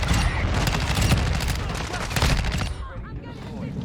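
Rapid automatic gunfire from the Honey Badger rifle in Modern Warfare 2, a dense, loud burst of shots that runs for most of the moment and then breaks off into quieter game noise.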